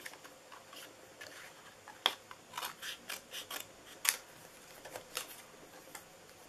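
Scissors cut across paper for a handmade Christmas treat box in a series of quick, soft snips, with a couple of sharper clicks. The sound is quiet and close, with no one talking.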